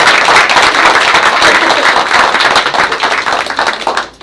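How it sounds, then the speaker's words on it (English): Audience at a school board meeting giving a round of applause, loud, close, dense clapping that holds steady and then tapers off at the end. "Let's give a round of"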